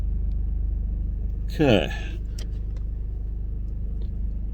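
Toyota GR Corolla driving: a steady low engine rumble and road drone hold throughout from inside the cabin, with a brief louder sweep partway and a single short spoken word.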